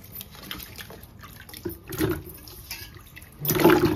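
Soaked taro pieces being washed by hand in a bowl of water, with soft sloshing and trickling, quiet stretches between, and a louder splash near the end.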